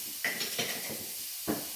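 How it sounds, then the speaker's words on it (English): Cabbage stir fry being stirred in a pan, with a few scraping clinks of a utensil against the pan over a soft background sizzle. "Hold on, I gotta stir my cabbage."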